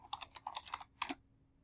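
A quick run of about a dozen crisp computer keyboard keystrokes, close and fairly quiet, ending in a short pause.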